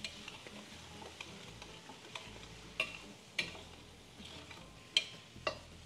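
Ingredients for pansit bihon sauté and sizzle softly in a pan, with a string of sharp metallic ticks from stirring spaced about every half second.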